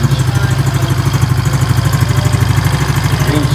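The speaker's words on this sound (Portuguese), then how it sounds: "Olha que motor suave," A Superlet moped engine idles smoothly at close range, a steady low putter with a fast even pulse and no talk over it.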